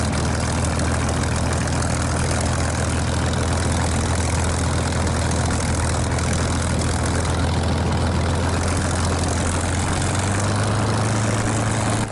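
A Spitfire's piston engine runs loud and steady during a pre-flight run-up, a heavy, continuous low roar that rises slightly near the end, with no voices.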